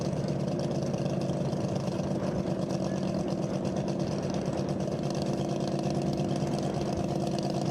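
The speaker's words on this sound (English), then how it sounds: "They're using an Arden 8-cylinder, 498 cubic inch 8-cylinder." Arden 498 cubic inch V8 race car engine running steadily at a dry lake race, a loud continuous low rumble throughout with no voices.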